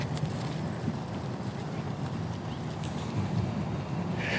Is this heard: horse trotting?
yes